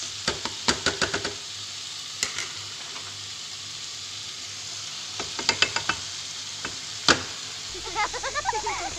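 Sweet peppers, carrots and tofu are stirred in a sizzling pan, with bursts of clattering utensil scrapes and knocks over a steady frying hiss and brief pauses between stirs.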